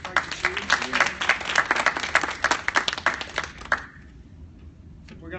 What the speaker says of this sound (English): Chi, big round of applause.